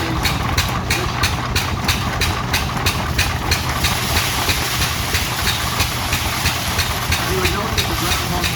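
A belt-driven groundhog thresher runs at a threshing demonstration at a threshers' reunion, giving a steady loud mechanical drone with hiss and rapid rhythmic clatter. People talk over the machinery throughout.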